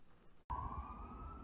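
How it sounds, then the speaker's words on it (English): After a brief cut, an emergency vehicle siren drones as a steady wailing tone, heard faintly from outdoors in a deep-snow northern setting. "I heard sirens, so I look out my door"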